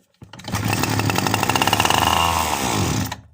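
Small two-stroke engine from a brush cutter catching after carburetor priming, bursting into a loud, close buzzing run for about three seconds before cutting out.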